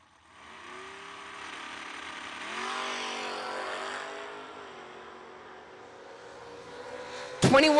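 Cars in a heads-up drag race passing at a strip, a sustained engine roar that rises and shifts pitch as they accelerate away, ending with a brief sharp burst of noise.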